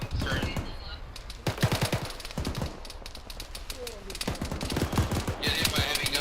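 Heavy machine gun fire rattles in a military video game in short bursts and scattered shots, with voices talking over parts of the gunfire.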